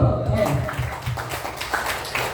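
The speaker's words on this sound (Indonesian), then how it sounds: "Betul, tepuk tangan dulu." Primary school pupils at SDN 2 Sawah Lama clap together in class, dense overlapping claps blending with children's voices and room noise, moderately loud throughout.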